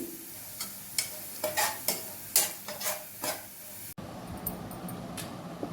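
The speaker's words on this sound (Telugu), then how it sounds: "కొంచెం ఆయిల్ వేసుకొని నల్లేరు బాగా ఫ్రై చేసేసుకోవాలి." Veld grape (nalleru) stems being fried and stirred in a little oil, a close sizzle with a run of sharp scraping stirs at first, then a steadier dense hiss for the last couple of seconds.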